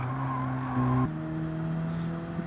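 A car slides through a final corner of a track, its engine droning in steady tones that shift pitch as it loses grip, close and moderately loud with no talking.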